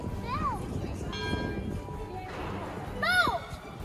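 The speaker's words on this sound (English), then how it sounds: "Is that the bell?" A church bell rings at Hampton Court Palace, its sustained tones heard at a moderate distance beneath nearby voices and outdoor background noise.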